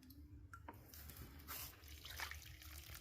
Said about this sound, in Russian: Проливаю концентратом на основе конского навоза.